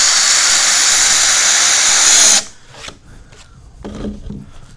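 Cordless drill boring into pallet wood, a loud continuous grinding whir for about two seconds that cuts off abruptly, then softer rubbing and handling sounds.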